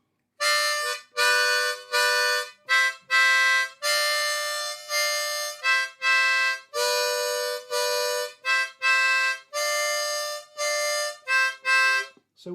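A harmonica in D plays double stops on holes 3 and 4, sounding a series of short and longer bright chords with gaps between them, close and clear with no voice.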